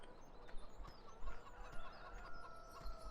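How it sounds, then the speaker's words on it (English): Chickens clucking in a PC game set around Norfolk, soft repeated clucks and short calls over a low background, faint and fairly distant. "And the chickens are the last thing to look at."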